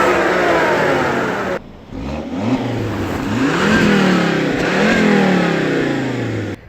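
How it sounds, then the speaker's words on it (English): A Volvo S60 2.5T sedan's engine is revved repeatedly, with several rising and falling sweeps up and down the rev range between brief pauses, loud and close. "I'm really impressed with the engine. It sounds really good too, so let's take a listen to that."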